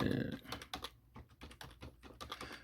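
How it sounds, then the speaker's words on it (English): Quick keystrokes on a computer keyboard, a short burst of close, crisp clicks in an uneven rhythm as a search term is typed, with faint speech-like background at the start. "let's just type in pressure washer, P-R-E."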